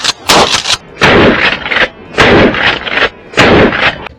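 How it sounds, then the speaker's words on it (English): A Mossberg 500 12-gauge shotgun fires four loud, booming shots spaced about a second apart, each blast followed by a short rolling echo outdoors. "Definitely a 12 gauge shotgun will make people think twice."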